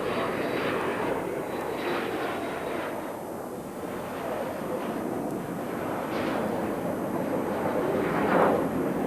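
Military aircraft engines roar steadily at an international air tattoo, a broad, loud, continuous jet rumble that swells slightly near the end, with no voices.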